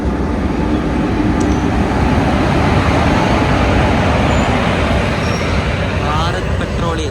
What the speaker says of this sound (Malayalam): ഇതൊരു ഗുഡ്സ് ട്രെയിൻ വരുന്നുണ്ട്